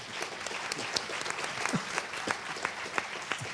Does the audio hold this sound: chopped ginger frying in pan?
no